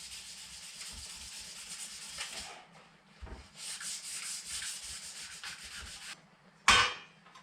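Metal parts from a Toyota Land Cruiser FJ40/HJ47 heater box are rubbed down with 400-grit sandpaper. Close, continuous hissing strokes come in bursts with short pauses, plus a sharp knock near the end.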